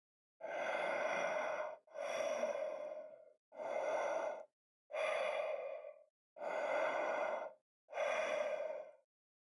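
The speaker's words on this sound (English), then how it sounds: "The sound of deep, steady breathing filled her ears." Six slow, deep breaths follow one another in a steady rhythm, each a long airy exhale with short silent gaps, close and fairly soft, set within an audiobook.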